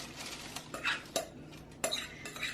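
A utensil scrapes and taps against a pan while a chocolate coconut mixture is spread into it, giving a few soft clinks and scrapes, quiet and close, with no voices.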